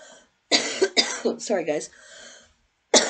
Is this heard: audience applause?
no